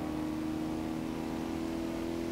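A small V8 car engine in Forza Horizon 2 hums and revs at a steady, fairly loud pitch, a continuous buzzing drone with no talk over it.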